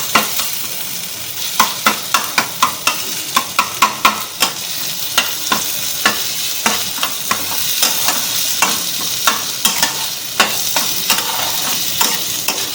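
Ginger garlic paste sizzling in a pan for a spicy coconut chicken curry, stirred constantly with sharp rhythmic scrapes and knocks over a loud, continuous frying hiss.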